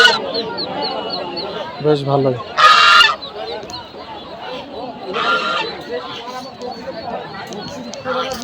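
Domestic Chinese geese at a rural village market honk in loud, harsh bursts, close by, amid market chatter and a short spoken remark.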